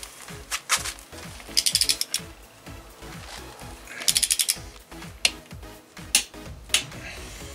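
A hand ratchet tightens a crankshaft main bearing bolt on a Kia Forte or Soul 1.8/2.0 engine, producing fairly quiet bursts of rapid clicking strokes with short pauses between them, close up and without speech.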